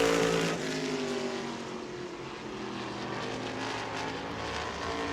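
A NASCAR Whelen Modified race car, number 44, comes off turn four on a qualifying run at New Smyrna, its engine a loud, steady, buzzing drone throughout.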